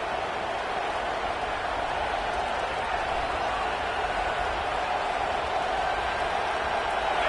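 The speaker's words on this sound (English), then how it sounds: "This crowd ready to make its presence known" A packed stadium crowd at a college football game roars in a steady, broad wash of noise, sustained and unbroken throughout, with no distinct voices standing out.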